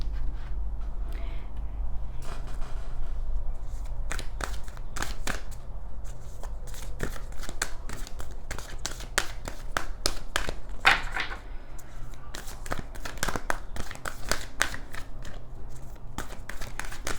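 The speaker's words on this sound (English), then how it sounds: "let's go ahead and pull some Moonology cards" Close, steady riffling and shuffling of a Moonology tarot deck, a continuous papery rustle with sharp flicks and snaps throughout, mostly alone with no clear talk.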